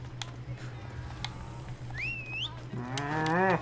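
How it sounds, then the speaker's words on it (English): A cow moos in the video game Assassin's Creed Odyssey, a drawn-out, low, wavering call near the end, heard over a steady game ambience hum with a few faint bird-like chirps earlier. "Was that a cow?"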